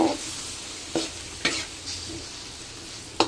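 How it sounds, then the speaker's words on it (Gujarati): Chopped onions fry in hot butter for street-style pav bhaji, a steady sizzle throughout, with a few scraping knocks as a spoon stirs them in the pan. "હવે આપણે એમાં ચોપ કરેલા કાંદા નાખી દઈશું. હલાવી દઈશું."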